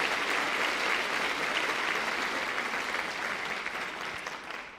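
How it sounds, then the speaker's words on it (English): A school district convocation audience applauds steadily for nearly five seconds, a dense wash of clapping that stays loud before easing slightly at the end, with no voices over it. "help me give a round of applause to all three of those organizations that have been great"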